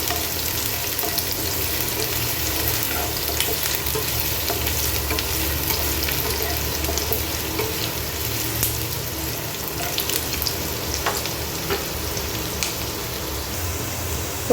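Onions and green chillies fry in a pan for semiya khichdi, giving a steady close-up sizzle and crackle that runs unbroken throughout, with occasional faint stirring scrapes and no talking.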